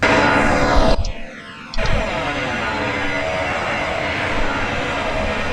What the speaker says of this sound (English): sounds on the airplane are pretty good.